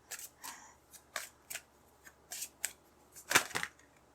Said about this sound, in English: I'm always shuffling my deck upside down.